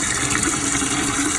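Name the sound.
FluidMaster toilet tank filling with water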